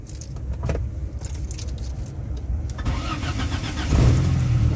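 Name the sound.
used car engine being started at car market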